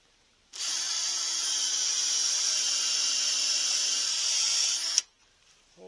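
A power drill bores a hole while building on a homestead, a steady high whine held for about four and a half seconds before cutting off, then near silence.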